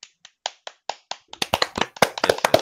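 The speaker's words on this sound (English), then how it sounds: "Let's clap." A group claps together in a comics news show setting, starting with a few sparse, separate claps that quickly build into denser, overlapping applause from several people, close and lively with no talking.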